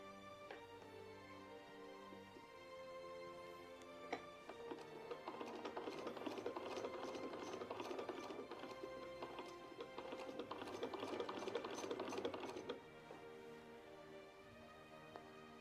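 A sewing machine stitching sleeves for historical tailoring, heard as a faint, fast mechanical rattle that runs steadily for several seconds, then stops, quiet and close with no talking.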